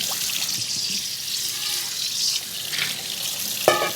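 Running tap water pours over pinto beans in a colander, a steady broadband rush with a few clinks of beans, continuous and fairly close throughout.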